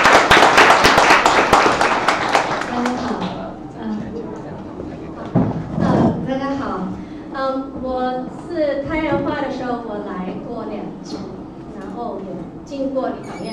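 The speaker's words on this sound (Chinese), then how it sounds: "那我们就先热烈掌声欢迎师徒老师" Audience applause welcoming a teacher at a lecture, a dense burst of clapping at the start that fades within a few seconds before a person begins speaking.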